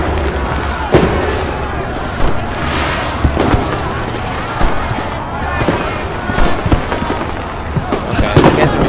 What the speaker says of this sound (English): fireworks! Well, the pretty fireworks